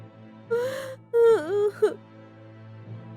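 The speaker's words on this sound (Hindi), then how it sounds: "ये रोने की आवाज," A woman cries inside a white-and-gold palace prison in an animated Hindi fairy tale, giving two short wailing, whimpering sobs with a gasping pitch glide, close and fairly clear over a low background hum.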